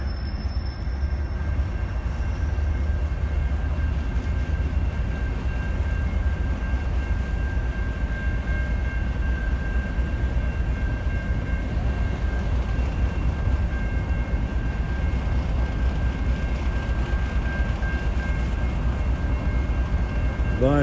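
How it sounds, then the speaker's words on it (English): A BNSF Railway local freight train with a caboose rumbles past steadily and continuously, a low heavy roar of rolling wagons with a faint high tone running through it. "BNSF Railway local freight with a Caboose with no graffiti"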